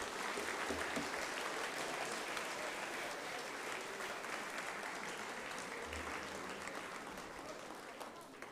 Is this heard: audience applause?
yes